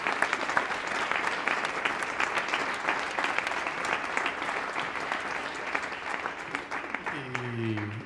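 A concert audience claps steadily and warmly for the double bassist, a full, even roar of hands that carries on until a voice begins speaking near the end.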